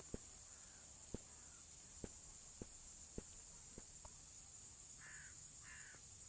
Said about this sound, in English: You a crow?